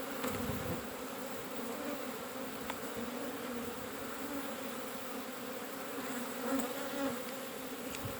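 Honey bees swarm around an opened hive during a demaree split, making a dense, continuous buzzing hum that stays steady throughout, with no talking.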